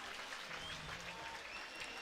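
Baseball crowd at a USPBL All-Star home run derby claps and cheers steadily throughout, a dense wash of applause heard from within the stands.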